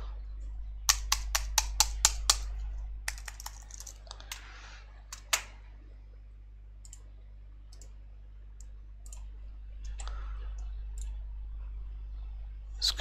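A Bluetooth keyboard's keys click in quick irregular bursts, close and fairly quiet, over a steady low hum with gaps of near silence between flurries.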